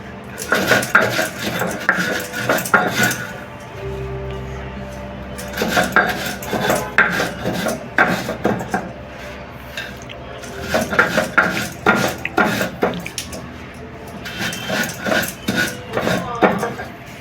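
Spices are ground to powder by hand, with bursts of rapid knocking and scraping clatter that stop and start, close and fairly loud, separated by quieter pauses.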